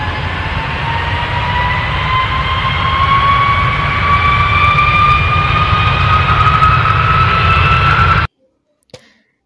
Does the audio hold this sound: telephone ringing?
no